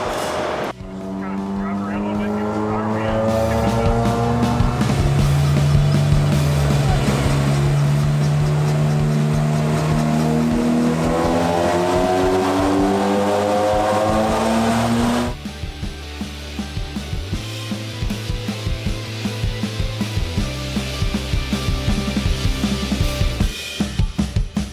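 A Honda car with a K-swap engine runs, a steady idle rising into revs with a shift in tone partway through, close and continuous for the whole stretch.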